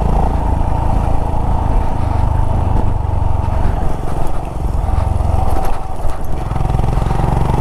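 A Himalayan motorcycle rides a bumpy, rough forest road, its engine rumbling steadily and loud throughout with irregular jolts and rattles from the uneven surface, no talk over it.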